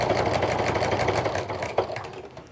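A sewing machine stitches steadily through jelly roll rug fabric strips, a continuous close mechanical whir that softens slightly toward the end as the needle runs off the edge.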